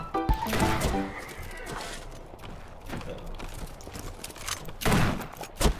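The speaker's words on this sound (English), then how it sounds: "Warning shot." Shotgun blasts in the farming shooter game Shotgun Farmers: a sharp, loud burst near the start and another close to the end, set against a busy background of game noise.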